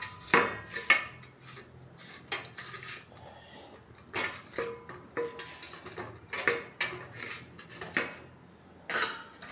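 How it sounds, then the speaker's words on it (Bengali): Oil is spread over a metal plate with repeated clinks, taps and scrapes of utensil on dish, irregular bursts recurring close and fairly clear, with no talking. "এখন আমি এখানে থালের মধ্যে তেল মাখিয়ে নিচ্ছি"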